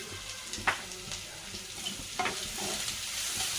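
Thinly sliced onions, green chillies and curry leaves frying in a pan for coconut rice, a close, steady hiss broken by a couple of short stirring scrapes.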